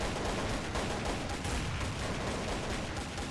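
Dense, rapid gunfire from the video game Counter-Strike: Source crackles without pause. Overlapping shots rattle loudly throughout, with no talking.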